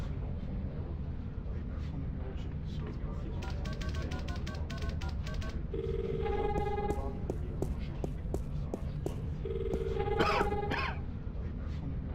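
A telephone rings in The Longest Journey, two electronic ring bursts a few seconds apart over soft game ambience, with a run of rapid clicks just before.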